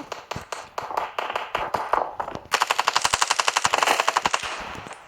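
Rapid bursts of gunfire in the shooter game Standoff 2, first in separate short volleys, then one long continuous automatic stream, loud and close with no talking.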